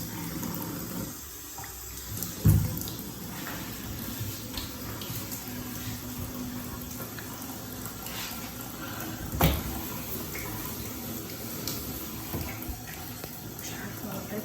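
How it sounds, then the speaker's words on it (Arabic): Steady broadband rush of water pouring from a bathtub tap into a dirty tub, continuous throughout with a couple of brief knocks or splashes, fairly close. "انا بقول ان انا افتح المية"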